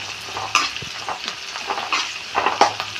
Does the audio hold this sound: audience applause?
no